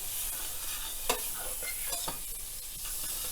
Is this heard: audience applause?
no